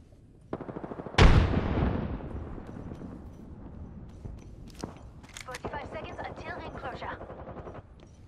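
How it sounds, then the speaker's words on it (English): A grenade in the video game Apex Legends goes off with a loud, sudden boom that decays over about a second. Rapid gunfire and rumbling battle noise follow, and a voice talks over part of the action. "Grenade out."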